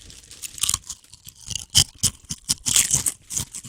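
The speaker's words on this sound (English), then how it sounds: "See how loud we can crunch these chips." A group of people crunch potato chips in a radio studio, loud and close, with a rapid, uneven run of crisp bites and chewing crackles and no talk in between.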